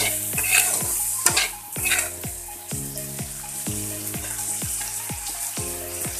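Eel fish frying in an Assamese-style preparation, with a steady sizzle in the pan and a spatula scraping and stirring in a regular rhythm about every half second, close and clear with no talking.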